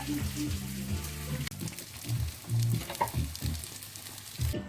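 Bluefin tuna pieces searing in a hot frying pan, a loud, continuous close sizzle with crackling spits and a low hum underneath.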